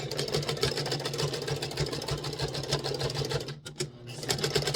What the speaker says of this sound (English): we're going to fix this one. Backward stitch.